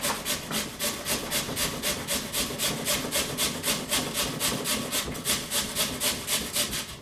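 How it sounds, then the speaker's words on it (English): Potatoes rubbed on an old-fashioned metal box grater in steady rhythmic rasping strokes, roughly three per second, close and alone. "for those of you who don't know how an old-timey box grater works, it works on elbow grease."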